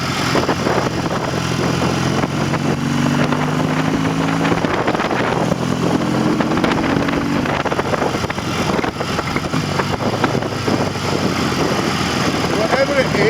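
The Norton 650 Unified Twin prototype motorcycle engine revs up to 5,000 RPM, a loud, steady mechanical drone with rising pitch sweeps, heard close and partly under a man's speech.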